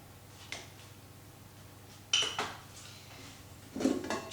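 A rubber scraper is scraped against the rim of a bowl of double chocolate chip cupcake batter, giving three brief clinks and scrapes spread across a quiet kitchen background.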